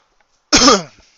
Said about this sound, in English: Sorry, I have a bit of a cough right now